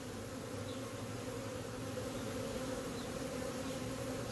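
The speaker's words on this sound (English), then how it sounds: "So all the bees have been brushed off." Honey bees buzz during a hive inspection, a steady, dense drone of many wings at a constant level, close and unbroken, with no voices.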